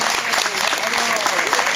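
Applause from an audience for an accordion teacher at a diatonic accordion gathering in a monastery, dense steady clapping with voices mixed in.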